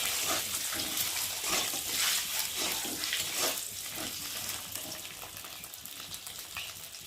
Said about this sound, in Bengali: তো দেখো, ডিমটা ভাজা ভাজা হয়ে গেছে।